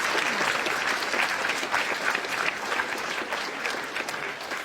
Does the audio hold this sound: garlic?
no